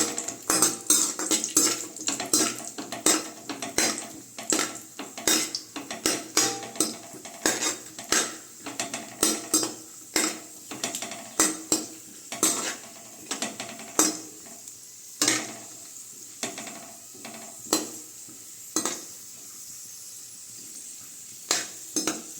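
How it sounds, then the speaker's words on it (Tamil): Cashews and raisins frying in a pan for a dates halwa, with a spoon scraping and clanking against the metal in a rhythmic stir over a soft sizzle, close and fairly loud, no voices. "நான் வந்து முந்திரியும் திராட்சையும் சேர்க்குறேன்."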